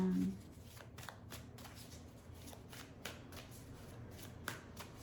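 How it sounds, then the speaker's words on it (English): A deck of tarot cards is shuffled and drawn close by, giving a continuous papery riffle with small ticks and snaps throughout. "I'm gonna draw maybe one more card, almost like an outcome"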